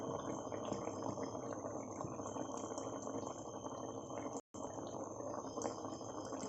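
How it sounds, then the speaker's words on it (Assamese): Fish curry with tomato simmers in a pot, a soft, steady bubbling and gurgling heard close but quiet, broken by one brief silent gap. "এয়া মাছৰ আঞ্জাখিনি ধুনীয়াকৈ উতলি গ'ল।"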